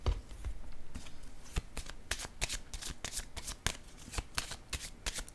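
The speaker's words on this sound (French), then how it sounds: "Je vais déposer une carte sur l'intuition." Oracle cards being shuffled by hand and then laid down, a close, quiet run of quick riffling flicks and soft slaps in irregular bursts, with no talk.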